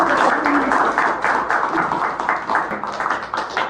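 Studio audience at a high school podcast applauds a guest from the provincial education office; a dense round of clapping runs throughout, with faint voices mixed underneath.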